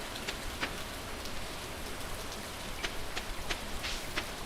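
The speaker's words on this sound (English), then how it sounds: "Maybe it's raining." Steady, dense rainfall in the Stardew Valley video game, a constant soft patter with scattered brighter droplet hits throughout.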